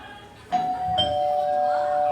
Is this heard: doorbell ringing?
yes